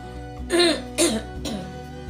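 Two sharp, close coughs in quick succession from a teacher with the flu, followed by a softer third cough, with a low hum underneath.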